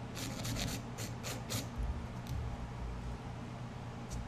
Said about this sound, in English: So I'm just filing and shaping the nails again.